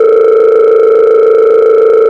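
A telephone dial tone plays as a continuous, loud, steady electronic hum, with no pauses and no voices.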